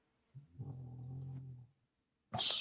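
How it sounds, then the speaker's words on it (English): A dog's long, low rumbling snore, followed after a short pause by a louder snorting breath, close and alone with no talking. "that dog snores loud."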